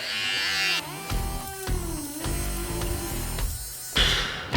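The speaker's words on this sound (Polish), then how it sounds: "faktycznie tutaj ta mini golareczka moim zdaniem troszeczkę lepiej się sprawdza niż sama ta nasadka" Braun MGK 7020 mini electric shaver trimming a beard, a steady close buzz that cuts in and out over a few seconds, with brief pauses and louder bursts as it moves across the hair.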